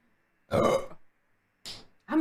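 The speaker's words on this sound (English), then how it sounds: "Sorry about the burp." A woman lets out a loud, close burp, followed by two shorter belch-like bursts, each separated by near silence.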